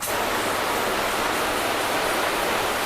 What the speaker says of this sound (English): We'll grab our hose and we're just going to rinse this off now.